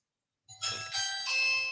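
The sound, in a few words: doorbell ringing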